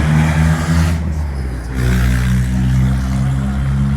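A straight-piped Dodge Dakota truck roars loudly as it accelerates down a road in a private lot, a deep, rumbling exhaust with a brief dip mid-pull before the engine surges on, close and strong throughout.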